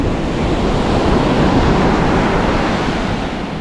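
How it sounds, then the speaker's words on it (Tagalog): Cold wind gusts along a seashore in Ilocos, roaring into the microphone over the broad rush of surf, a loud, continuous blustery wash with no voices. "Yung hangin niya, ang lamig eh."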